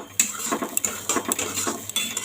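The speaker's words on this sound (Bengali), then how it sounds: "এই যে ভেজে নিচ্ছি ঘি সুজির সঙ্গে নারকেল কোড়াটা" Grated coconut and semolina being fried in ghee, stirred in a pan with repeated sharp scrapes and clinks of a metal spoon against the vessel over a low, steady sizzle.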